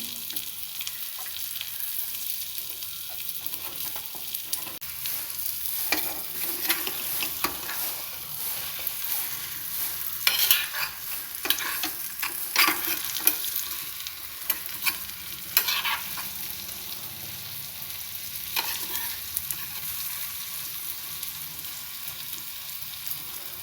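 An omelette made with boiled eggs sizzles steadily in a pan over a low flame while it is slowly turned, with soft scraping and stirring clicks over the continuous close frying hiss.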